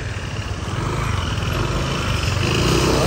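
A motorcycle engine runs steadily and loud close by as the bike fords a river at a riverside ranch, a continuous rough drone that swells slightly toward the end, with no talk over it.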